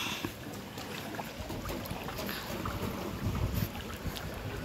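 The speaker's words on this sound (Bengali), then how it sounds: "এখানে দাদা নৌকো নিয়ে যাচ্ছে।" A boat pushing through fast-flowing flood water at Ghatal, a steady rushing wash of water and wind buffeting the microphone, continuous and close with no talk.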